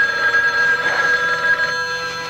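A telephone rings insistently in a tense horror film trailer from 1980, its steady electronic bell tone sustained and fairly loud, fading slightly toward the end with no one speaking.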